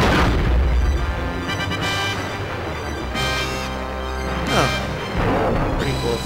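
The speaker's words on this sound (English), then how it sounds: "So the objective is to dodge his little gun blast there" Armydillo, the armoured armadillo boss in Donkey Kong 64, fires gun blasts: a series of loud, booming video-game explosions with several sharp bursts over a dense game soundtrack.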